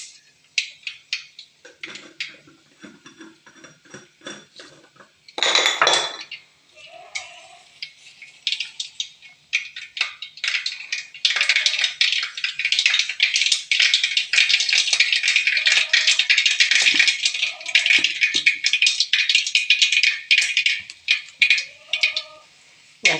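Mustard seeds crackle in hot oil, a loud, dense burst of rapid pops that comes in fits, builds to a sustained clatter and then thins out.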